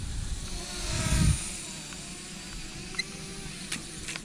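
A Syma D110C toy drone flying at full throttle gives off a thin, steady buzzing whine of small rotors, with a brief louder swell early on and a few faint clicks later.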